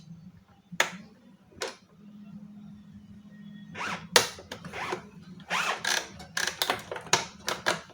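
Plastic clips click and the paper feed roller of an Epson L3110 printer rattles and scrapes as it is pulled out, a few isolated snaps then a burst of close clicking, with a faint hum beneath.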